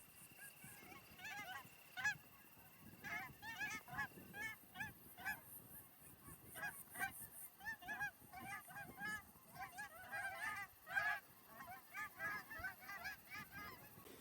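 Geese and ducks call in a field, a flock honking in repeated clusters of overlapping cries at moderate distance, continuous across the whole span.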